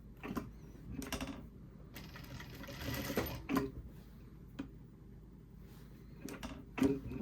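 A sewing machine stitches the pocket lining of a pair of jeans just outside the fold, in short quiet bursts of rapid stitching separated by pauses, with small clicks of handling between runs.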